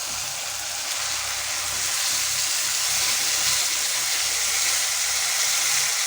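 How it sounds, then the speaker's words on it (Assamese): Grated bottle gourd and potato fry in a pan, giving a steady, close sizzle and hiss that grows slightly louder and continues without a break. "এইখিনি এতিয়া অকণমান ভালদৰে ভাজি ল'ম।"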